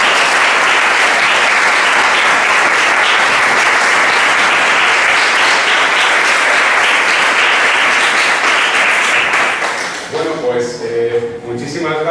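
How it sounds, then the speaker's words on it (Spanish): Loud, dense audience applause welcoming a speaker at a café science talk, a continuous wash of many hands clapping for about ten seconds before a voice starts talking as it dies down. "Os pido un aplauso para recibir."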